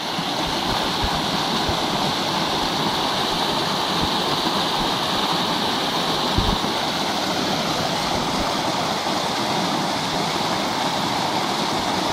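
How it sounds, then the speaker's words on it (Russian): The Bunarka river near Novouralsk runs through forest, a steady close babble of flowing water that continues unbroken and alone for the whole stretch. "Это река Бунарка"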